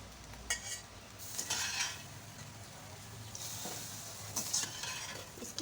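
Minced keema stir-fried in hot mustard oil in a kadai with whole spices, a soft steady sizzle under scraping and clinking of a spatula against the pan, with a few brighter stirring strokes.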